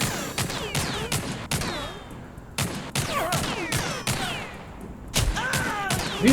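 Bursts of gunfire in the shooter game TimeSplitters Rewind, several sharp volleys with brief gaps, loud and close, with ringing ricochet-like tails between the shots.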